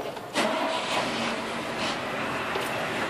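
A bus engine at a Colombo bus stop, an idle hum jumping into a louder steady mid-pitched running drone after a brief start, with faint background noise.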